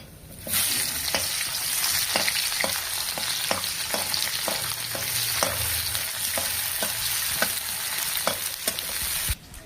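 Onion and whole spices, including cardamom and cinnamon, frying in hot oil for chicken curry. The sizzle is close and loud and steady, with regular clinks of a stirring utensil roughly every half second and no voices.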